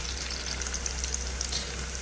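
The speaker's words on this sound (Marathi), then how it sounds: "कांदा तेलामध्ये घालायचा आहे आणि परतून घ्यायचा आहे" Chopped onion frying in oil, a dense steady sizzle with a close hiss that holds level and alone throughout.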